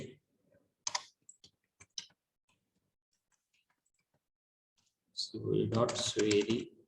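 A few sparse, crisp taps on a computer keyboard while an email ID is entered, spaced with quiet gaps, followed by someone speaking close up.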